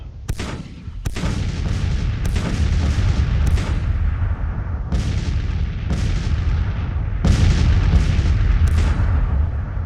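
Artillery and infantry gunfire in the Civil War strategy game Grand Tactician: repeated heavy booms, some close and sharp, others duller, arriving every second or so over a constant rumbling battle bed.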